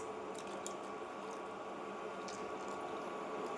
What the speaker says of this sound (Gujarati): આજે મિક્સરના જાર ધોયા હોય તે પાણી છે તે હું એડ કરું છું